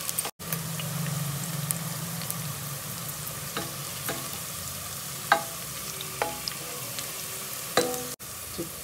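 Food sizzling steadily in a hot pan, a continuous close fry with scattered pops and stirring clinks, interrupted briefly by a couple of sharp knocks.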